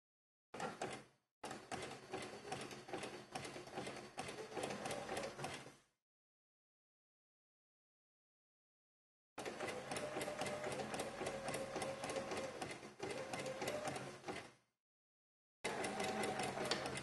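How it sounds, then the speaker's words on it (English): A free arm sewing machine with a slide-on flatbed accessory stitches the side seams of a t-shirt, running in steady buzzing bursts of several seconds with silent pauses between. "I have a free arm sewing machine which has many advantages"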